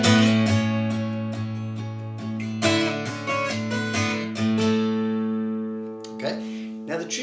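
An electric guitar plays an octave riff, ringing picked notes over sustained bass tones, close and clear, fading out near the end before a few quieter strums.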